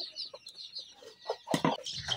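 Desi chickens crowd into their coop at six in the morning, giving scattered soft clucks and chirps before a louder burst of squawking from close by.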